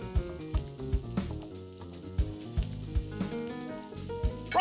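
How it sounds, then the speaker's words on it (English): A steak searing in a hot pan, a soft continuous sizzle with occasional light knocks, sitting under background music. "I'm gonna sear it on both sides for about 2 minutes per side"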